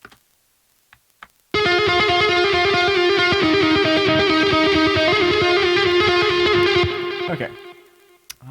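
Heavily distorted electric guitar playing a lead through a Neural DSP Archetype Nolly amp plugin, loud and sustained for several seconds after a quiet start, then cut off abruptly with a brief ring-out.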